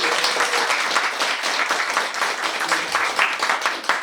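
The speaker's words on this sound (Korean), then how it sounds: "두 분께 일단 감사의 박수를 보내드립니다" Applause from the audience at an eighth-anniversary commemorative gathering in Korea, thanking two speakers: dense, steady clapping from a room full of people, loud and close throughout.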